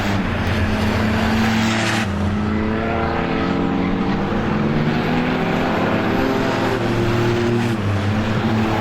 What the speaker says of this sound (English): it's pretty entertaining to see these cars go through the corners